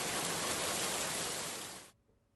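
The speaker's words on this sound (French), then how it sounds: "Ah mais non, il pleut." Rain playing back inside a REAPER audio project, a soft steady hiss that fades briefly and then cuts off abruptly near the end, leaving near silence.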